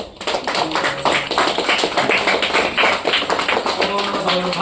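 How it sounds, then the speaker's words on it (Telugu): Dense, continuous clapping from a group of people at a Hindu Chandi homam and Sri Rama kalyanam ritual, steady and fairly loud throughout, with chanting voices mixed in. "చప్పట్లు"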